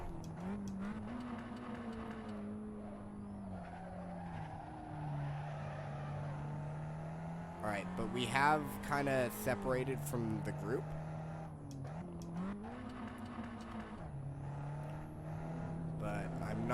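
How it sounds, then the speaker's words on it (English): A race car in Assetto Corsa runs at steady low revs, a continuous droning engine note with slight pitch rises and dips throughout, while someone talks over it. "we're running relatively low revs with this car right now"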